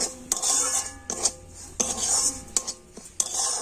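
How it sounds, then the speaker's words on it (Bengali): Semolina frying in ghee is stirred in a metal pan, with about half a dozen rhythmic scraping strokes of a spoon against the metal, close and clear, separated by short pauses. "তো আমি ঘিয়ের উপরে সুজিটা ভেজে নিচ্ছি।"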